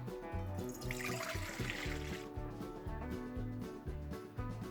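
Room-temperature water poured into a bowl to dissolve brewer's yeast for Neapolitan-style baked calzone dough, a faint steady trickle heard quietly beneath background music.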